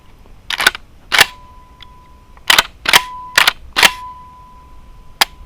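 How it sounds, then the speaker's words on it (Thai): A Commando 8.6 shotgun firing Tornado slug rounds, heard as a series of sharp, close cracks spaced irregularly over several seconds, each loud and abrupt with a faint tone lingering between some shots. "เดี๋ยวเราจะ ยิงอีกนัดหนึ่งนะครับ"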